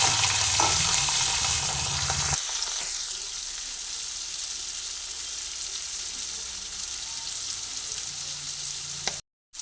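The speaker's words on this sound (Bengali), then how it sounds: "কড়াইতে তেল দিয়ে দিলাম তেল গরম হয়ে গেছে সেই জন্য যে সবজিগুলো কেটে রেখেছিলাম এক এক করে সবজিগুলোকে তেলের মধ্যে দিয়ে দিই" Cut winter vegetables dropped into hot oil in a wok, a loud bright hiss at first that settles into a steady close sizzle, cutting off abruptly at the end.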